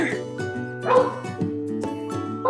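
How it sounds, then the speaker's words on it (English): Several dogs bark and yip in repeated bursts close by, with whining tones between the barks, loud and continuous over a short stretch. "Why do my dogs always bark?"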